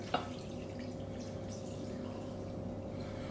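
Broth poured into a pot of coq au vin with wine, a steady liquid flow after a brief splash at the start, close and fairly quiet throughout.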